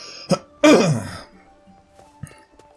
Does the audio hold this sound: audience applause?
no